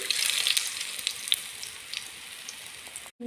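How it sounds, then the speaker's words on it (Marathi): Alu vadi, colocasia leaf rolls, shallow-frying in a little oil, giving a steady bright sizzle with scattered crackling pops throughout before it cuts off abruptly near the end. "तेल टाकून अशी वडी तळून एका साईडनं तळले."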